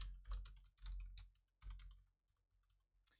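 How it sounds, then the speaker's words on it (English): Quick bursts of typing on a computer keyboard, close and soft, coming in several clustered runs of clicky keystrokes with short pauses between, fading to sparse taps at the end. "you have like my keyboard ASMR"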